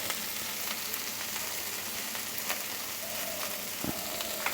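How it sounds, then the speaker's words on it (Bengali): Onion frying in a pan for a puti fish and coriander-leaf dish, a dense, steady sizzle heard close up with occasional soft clicks and light stirring touches. "আমি 1 মিনিটের মতো ভেজে নিচ্ছি।"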